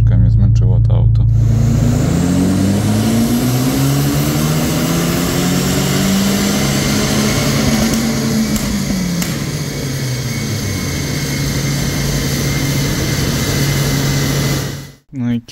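A car runs on a dyno during a power measurement, the engine revving up through the gears with rising and falling tones, loud and sustained before cutting off abruptly near the end.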